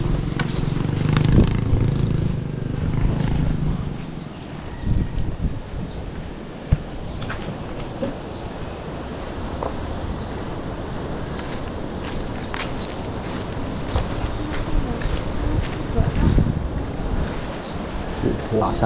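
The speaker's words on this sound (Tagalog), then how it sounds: "Lakas ang hangin." Strong wind buffets the microphone outdoors after rain in a flooded area, a continuous loud rushing roar with scattered thumps and rustles throughout.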